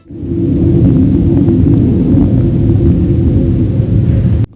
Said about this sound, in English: Is that thunder? Sounds like an airplane's coming down.